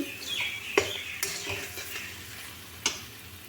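Sugar is stirred into chhana curry cooking in a pan, a close, steady scraping stir over a soft sizzle, with a few sharp utensil knocks against the pan and no talk.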